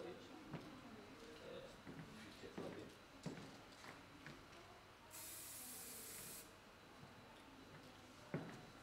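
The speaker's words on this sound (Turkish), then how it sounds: "Saçı ne tarafa tarıyorsak o tarafa doğru, spreyimizi o tarafa doğru püskürtüyoruz." Hairspray is sprayed onto styled hair during a salon bun-styling session in a single steady hiss lasting over a second, heard close amid quiet handling noises.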